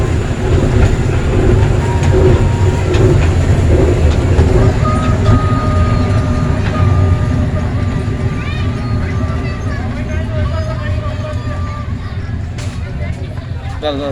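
A zoo's small ride train rumbling steadily along the tracks with a rattling, clattering drone, while people chatter in the background throughout.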